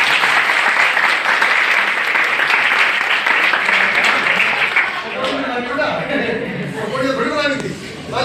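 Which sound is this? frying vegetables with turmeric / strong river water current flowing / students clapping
students clapping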